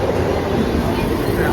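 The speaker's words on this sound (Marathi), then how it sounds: "नालासोपारा ट्रेन आली आता" A crowded local train arriving at Nalasopara station, a steady loud rumble and hiss of wheels and carriages running close by.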